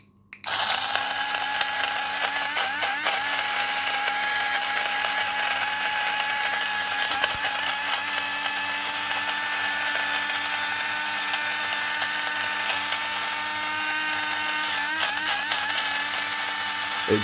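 An electric grinder powdering eggshells runs continuously with a loud, steady motor whine and a gritty rattle. It starts abruptly and keeps going for the whole stretch, alone without speech.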